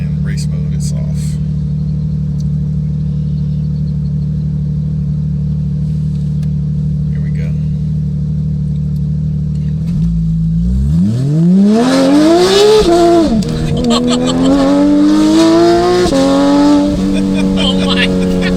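A 2022 Porsche 911 GT3 in race mode with traction control off idles steadily, then launches and accelerates hard, its engine note rising through several loud, rowdy revving sweeps with gear changes, close and dominant.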